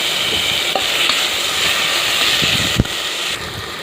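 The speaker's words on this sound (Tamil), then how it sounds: "2 தக்காளி வந்து மீடியமாக கட் பண்ணது போட்டு நல்லா அதுவும் வதக்கிக்கணும்" Chopped tomatoes frying with ginger garlic paste and onions for mushroom biryani over a medium flame, a steady close sizzle with soft stirring scrapes and one sharp clack near the end.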